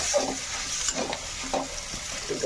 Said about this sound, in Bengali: একটু কষাই নেবো আলুটা